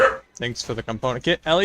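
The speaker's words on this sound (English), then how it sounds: "That is my dog." A husky and chihuahua mixed-breed dog yips and barks in short bursts under a man's close, clear speech.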